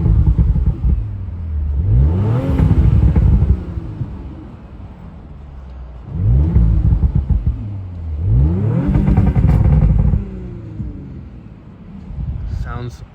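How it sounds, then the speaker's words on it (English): An Audi RS5 engine revs hard in neutral, recorded from inside the cabin: three loud rising-and-falling revs spaced a few seconds apart, each swelling into a throaty roar before dropping back to idle, with wind buffeting the microphone. "You guys want to hear it rev into neutral,"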